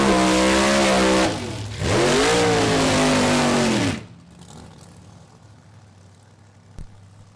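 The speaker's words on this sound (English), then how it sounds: "Round 1, Alky Digger, B Field Funny Car, Mary Reap from Texas" Alcohol funny cars launching side by side in round one of a B-field drag race at Mo-Kan Dragway, a loud close roar of accelerating engines that rises again, then cuts off abruptly to a distant fading rumble.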